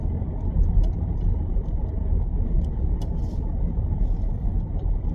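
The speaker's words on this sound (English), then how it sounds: "This wee car drives so well." Audi A4 S4 car on a test drive after disc and pad replacement, steady road rumble and engine drone heard from inside the cabin, with faint occasional ticks and clicks.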